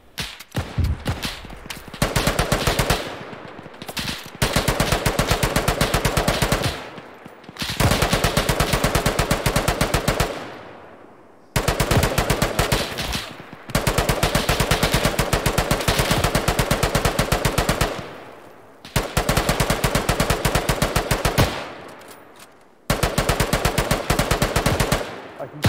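Machine gun fire in a World War One battle in Arma 3, with long sustained bursts of rapid automatic shots separated by brief pauses, loud and close, repeating over and over.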